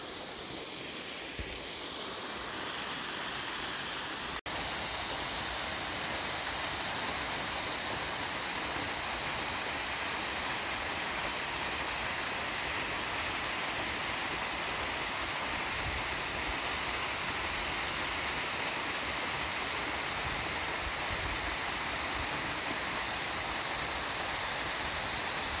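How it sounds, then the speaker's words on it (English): A waterfall on Ben Ledi in the Scottish Highlands roars as a steady, close, broadband rush of falling water, starting softer for a few seconds and then swelling to a loud, continuous wash with no voices. "We have found the waterfall finally"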